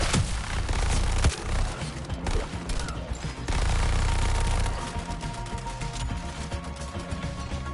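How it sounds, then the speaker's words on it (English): Enemy gunfire in the video game Suicide Squad, fired from overhead: rapid bursts of shots crackle through a dense, loud game mix, with heavy thuds and an ongoing wash of battle noise, and no talking. "Fire from enemies overhead!"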